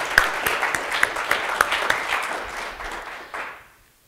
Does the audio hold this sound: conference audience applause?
yes